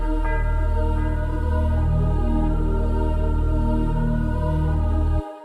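A dark, processed bell sample shaped with EQ, gate, delay and Valhalla VintageVerb reverb, a sustained tonal ring with dense harmonics that holds steady at full level for about five seconds before cutting off abruptly.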